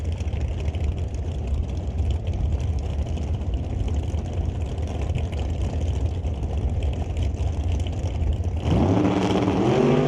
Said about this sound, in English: Bubba Speed Shop Bel Air with that 780 cubic inch motor from 1955 underneath it